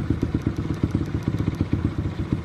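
A motorcycle engine fitted with a racing CDI holds high revs near its 10,000 RPM limit, with a steady, rapid pulsing beat like a rev limiter bouncing, loud and close with no talk.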